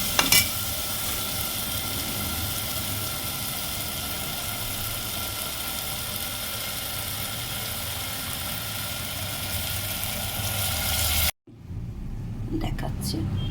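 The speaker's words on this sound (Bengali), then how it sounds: "এবার ডালটা একটু দিয়ে ভাজা ভাজা করে দেবো" Mung dal lentils fry in a pan ahead of pressure cooking, giving a steady broad sizzling hiss for most of the span before it cuts off abruptly near the end, with a soft voice faintly beneath.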